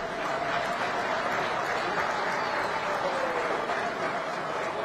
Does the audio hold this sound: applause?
yes